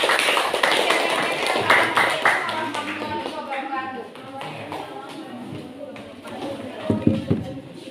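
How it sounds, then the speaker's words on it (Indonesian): A school class applauding, scattered and uneven clapping from a modest group that rises, fades and picks up again, with voices talking over it. "Oke, silakan tepuk tangan dulu."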